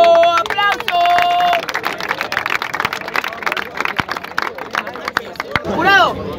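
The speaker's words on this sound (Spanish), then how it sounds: "¡Tiempo! ¡Aplauso!" Crowd applause and cheering erupt at a rap battle, a dense burst of clapping and shouting voices mixed with music, loud and close.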